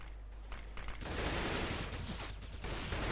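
Rapid bursts of gunfire in CS:GO, including an AK-47, crackle and rattle continuously, dense and loud, with mechanical clatter mixed in and no voices.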